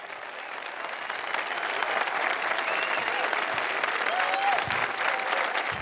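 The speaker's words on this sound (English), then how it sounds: "let's get some applause for y'all," Audience applause at a talk about healers swells from a quiet start into a steady, dense wash of clapping that holds at moderate loudness to the end.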